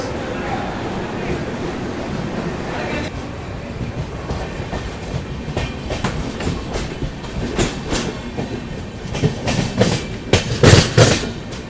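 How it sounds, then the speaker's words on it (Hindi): The 12622 Tamil Nadu Express from New Delhi to Chennai runs at speed after leaving Warangal, a steady loud rolling rumble with rhythmic clacking of wheels on rail joints from inside the train, with a voice speaking over it. "मस्त रफ्तार में निकली है भाई अपनी तमिलनाडु एक्सप्रेस"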